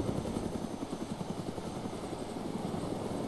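A helicopter in the DayZ survival video game runs with a continuous, loud, rotor-driven drone and a fast regular chop that stays close and steady throughout, with no voices.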